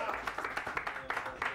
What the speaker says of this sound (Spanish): pido un fuerte aplauso para el señor Fabián Vargas